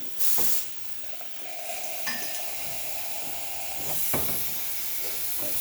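Strong, steady hiss of steam from the wand of a fully rebuilt La Cara espresso machine, rising with a sharp burst then settling into a continuous loud jet, with faint clicks over it.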